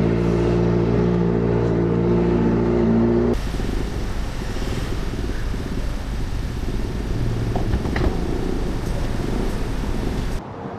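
A Kawasaki ZX4RR motorcycle at a night ride-out on NLEX idles steadily, then its engine is revved into a loud, sustained roar for several seconds before dropping back.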